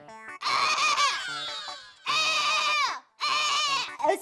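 A voice imitates a crow crying, but the call comes out as a goat-like bleat, given in three long wavering calls separated by short pauses, loud and close.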